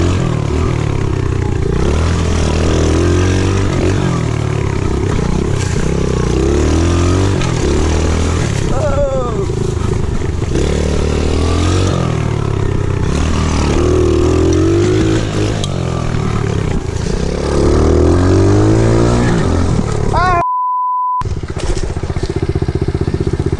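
A pit bike engine drones and revs continuously while riding a dirt track, rising and falling in pitch, loud and close with wind buffeting and someone talking over it.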